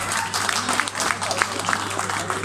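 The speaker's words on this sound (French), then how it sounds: "S'il vous plaît, vous pouvez donner un applaudissement." At an 80th-birthday celebration for a former school director, an audience applauds in a dense, steady wash of clapping, with voices mixed in under a low hum.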